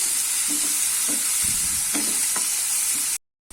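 Chopped tomatoes sauté in a pan for a chana dal kurma, a loud close sizzle with repeated scraping stirs at a steady rhythm, ending in a brief cut to silence.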